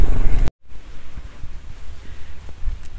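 Strong wind sweeps across an open kite-flying field where a 3-metre pegon ceper kite is flown, rumbling heavily into the microphone in uneven gusts after an abrupt cut from louder sound.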